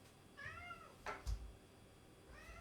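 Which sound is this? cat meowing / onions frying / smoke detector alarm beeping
cat meowing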